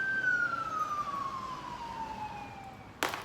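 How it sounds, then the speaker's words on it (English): A siren wails with a slowly falling pitch, steady and moderately distant, ending in an abrupt noisy burst. "Complimentary siren, right?"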